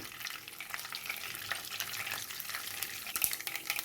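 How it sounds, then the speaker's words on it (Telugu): Urad dal, chana dal and mustard seeds frying in hot oil as a tempering for potato curry, heard as a dense, close crackle and hiss with scattered sharp pops, steady and moderately loud. "ఆవాలు తిప్పట్లు ఆడిపోయి పోపు వేగిపోయింది."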